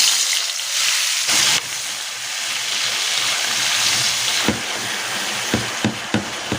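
Tomato sizzles in hot cooking oil in a pan for a Filipino fish stew, giving a continuous crackling hiss broken by a few short clattering knocks near the end.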